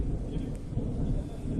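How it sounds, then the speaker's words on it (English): Continuous low thunder rumbling through a summer storm with rain starting to fall, a steady deep roll that stays at an even loudness throughout without distinct cracks. "There's constant thunder and it starts to rain"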